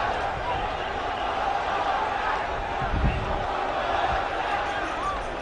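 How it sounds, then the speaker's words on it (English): Stadium crowd at an England versus India one-day international cricket match, a broad, steady roar of cheering with a brief thud partway through and a commentator's voice over the noise. "Now the crowd's getting on."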